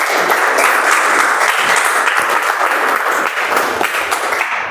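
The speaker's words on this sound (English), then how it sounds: "Yeah, we can keep the applause going." Members at a Toastmasters poetry meeting keep up a continuous round of applause, loud and close, a thick wash of many hands clapping with no talk over it.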